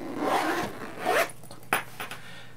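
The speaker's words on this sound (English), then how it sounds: "that zipping at the end of the day and the end of the week mentally closes off work" An A5 Filofax planner zipped shut, two or three quick close rasping zip strokes followed by a short tug at the end, with no voices.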